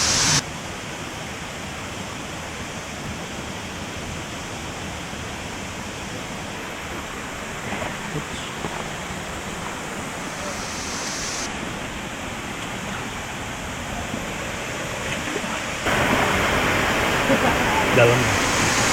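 Sing Sing Angin waterfall in Bali, a steady broadband rush of falling water heard close up for the whole stretch, getting slightly louder near the end.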